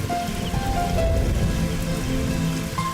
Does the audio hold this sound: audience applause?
no